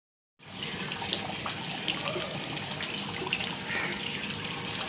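Heavy rainwater flowing and gushing outdoors during a downpour, a dense continuous rushing wash that starts abruptly and holds steady, close and fairly loud, with no talk.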